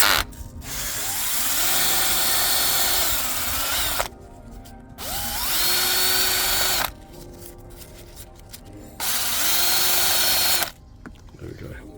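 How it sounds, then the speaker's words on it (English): A power drill spins sandpaper to clean a brake caliper guide pin on a 2013 Ford Focus ST-2. The loud, close, high-pitched whine comes in three bursts of about three seconds each, separated by short pauses. "I put it in the drill bit, get a bit of sandpaper, spin it, clean it."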